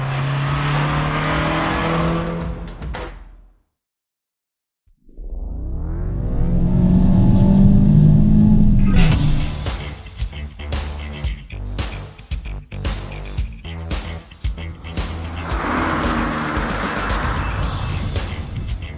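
A Mazda MX5 revs and accelerates hard with squealing tires, loud and close, drops out briefly, then roars back with sharp engine surges and skidding.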